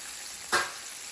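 Breaded pork chops frying in a pan, a faint, steady sizzle with one short, louder hiss burst partway through, no voices.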